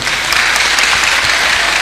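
Steady, dense applause from a crowd, continuous clapping at an even loudness throughout with no voices standing out.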